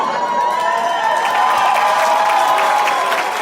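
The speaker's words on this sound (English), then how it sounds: "Already getting a round of applause." Studio audience applauding and cheering steadily throughout, a dense wash of clapping with crowd noise mixed in, no clear speech on top.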